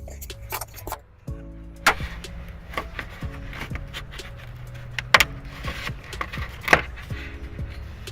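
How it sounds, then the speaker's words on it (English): Plastic trim pieces being pried off inside a 2015 Subaru Outback with a trim tool, giving several sharp clicks and snaps over a low steady hum, with softer rustling handling noises between them. "I'm going to use a trim tool to take off a little plastic piece here and a little plastic piece here"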